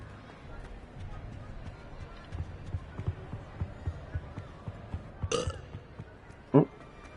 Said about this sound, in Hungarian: Jönnek a büfik.